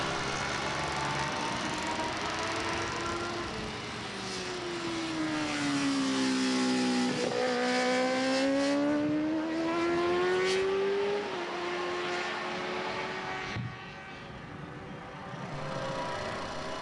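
Road-racing motorcycles sweep through the first turn at Blackhawk Farms racetrack, engines whining and rising then falling in pitch as they pass at moderate distance, with brief bursts of revving between passes.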